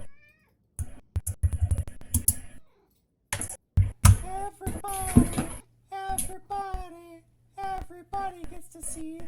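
Several cats meow repeatedly, close and fairly loud, in short bursts separated by pauses, with some clattering and brief talk mixed in.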